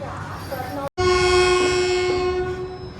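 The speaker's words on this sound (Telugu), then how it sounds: "మన పక్కనే ఒక గూడ్స్ ట్రైన్ ఉంది దీనిలో మొత్తం కోల్ ఉంది" A train horn sounds long and loud beside a coal-laden goods train next to the Tungabhadra Express, a steady blare over the rumble of rolling wagons after a brief cut.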